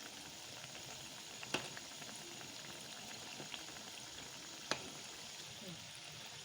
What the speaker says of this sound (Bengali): একটু ভালো করে ভেজে নেব, একটু লাল লাল করে ভেজে নেব।